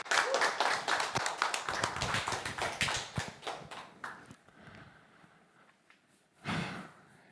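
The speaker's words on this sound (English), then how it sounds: "So give a round of applause for Guillermo Valencias." A conference crowd at a Node.js tech talk claps for the next speaker, a burst of scattered applause that thins and fades over several seconds, followed by a brief soft sound near the end.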